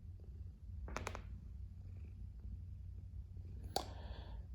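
A cat purring up close, a steady low continuous rumble filling the whole stretch, with a couple of brief clicks and knocks from woodworking on top.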